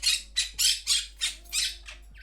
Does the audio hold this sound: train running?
no